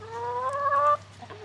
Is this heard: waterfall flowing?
no